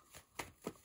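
Tarot cards are shuffled for a reading, three quick, soft riffling bursts close to the microphone, faint and brief with no talk over them.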